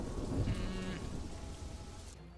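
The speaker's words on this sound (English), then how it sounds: "And there goes the rain." Steady rain hiss from the video game Dungetris, a dense continuous wash heard alone with no voices, faint bleating or low rumble briefly in the background.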